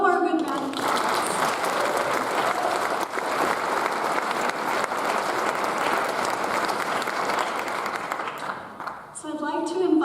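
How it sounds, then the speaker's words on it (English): Applause fills a winter recognition ceremony as an audience gives Brittany a round of clapping, steady and full for several seconds, with someone speaking briefly at the start and again as it tapers off. "Let's give Brittany one more good round of applause."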